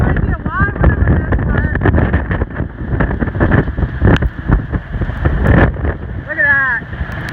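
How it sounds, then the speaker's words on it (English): Nor'easter wind roars and gusts against the microphone beside rough surf at Rehoboth Beach, Delaware, loud and buffeting throughout, with a voice talking over it. "This is what a nor'easter looks like in Rehoboth Beach, Delaware."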